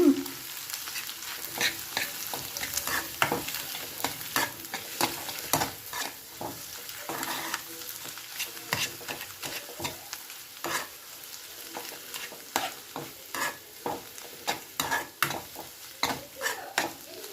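Scrambled egg sizzles steadily in a frying pan while a utensil stirs and scrapes it, with frequent sharp clicks of the spatula against the pan; close and continuous, with no talking.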